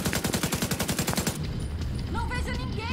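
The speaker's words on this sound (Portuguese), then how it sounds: "Abrindo fogo!" Rapid automatic gunfire in the shooter game Tom Clancy's The Division 2 rattles off in a steady stream of quick shots for about a second and a half, then breaks off into quieter game ambience.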